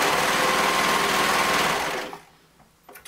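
A sewing machine stitches over clear elastic with a fast, steady mechanical whir for about two seconds, then stops, leaving light handling clicks nearby.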